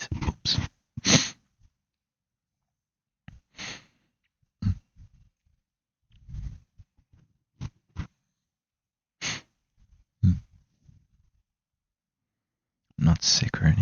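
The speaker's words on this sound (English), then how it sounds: "Not sick or anything, just sneeze." A person sneezes several times, sharp loud bursts spaced apart, with breathy sounds and quiet gaps between them and a cluster of sneezes near the end.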